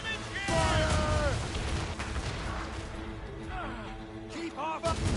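Ship cannons fire in Assassin's Creed Rogue, loud booming broadside blasts over a noisy naval battle with whistling and rumbling, while voices shout.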